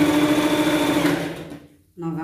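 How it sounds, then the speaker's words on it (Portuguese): A sewing machine hums along steadily, close and loud, as it stitches a folded hem on a Cinderella-style pet costume dress, then winds down and stops before a brief restart. "Vou vir aqui na parte da barra, dobrar e costurar, tá?"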